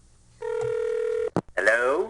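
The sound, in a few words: telephone ringing, from a video game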